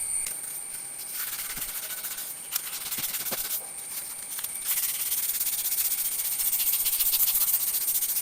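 Foam sprays steadily onto a muddy motorbike, unwashed for two months, during a second wash round, a continuous airy hiss that grows louder and denser toward the end, with a few small knocks and no speech.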